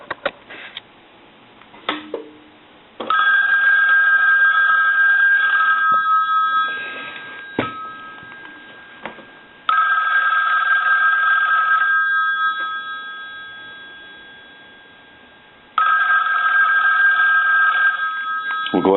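An old rotary desk telephone's mechanical bell rings loudly in long, jangling bursts separated by pauses, close up, after a few soft clicks and handling sounds.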